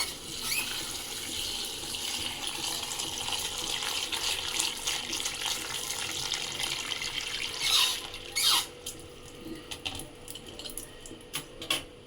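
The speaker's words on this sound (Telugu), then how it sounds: "ఇప్పుడు దీనిలో మళ్ళీ చల్ల నీళ్ళు పట్టుకోవాలి మనం" Tap water runs in a steady stream, filling a pot, with a few brief squeaks and clinks near the end.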